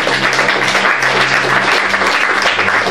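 Congregation applause during a French-language Bible teaching session in a church, a steady, dense wash of clapping sustained for about three seconds at full level, with a low hum beneath.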